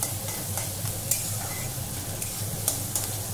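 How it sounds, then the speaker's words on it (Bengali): Onion frying in a pan, a steady, moderate sizzle with a few light clinks of stirring scattered throughout. "পেঁয়াজটা দিলাম। এটাকেও আধ ভাজার মতন করবো, একটু লাল লাল হবে, নরম হবে"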